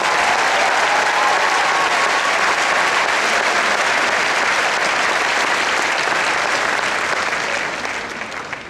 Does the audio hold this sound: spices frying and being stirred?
no